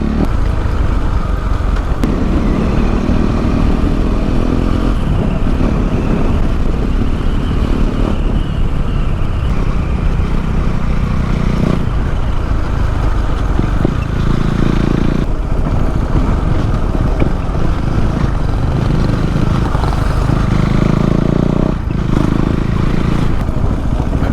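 A motorcycle engine drones loudly and continuously close by, its pitch rising and falling as the rider accelerates and shifts, with wind noise throughout.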